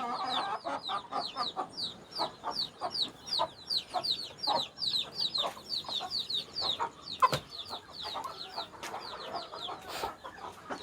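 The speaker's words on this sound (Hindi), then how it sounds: "ये आ गई हमारी जी चीनी मुर्गी।" Chickens, including Chinese and English breeds, cluck repeatedly in short, busy bursts over a rustling farmyard background, with bright chirpy calls layered throughout.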